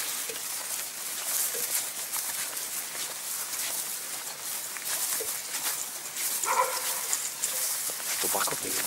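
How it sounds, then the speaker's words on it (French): A dog barks a few times outdoors near a bunker, heard faintly amid constant wind-like noise and people talking over it. "Des chiens aussi. Un chien."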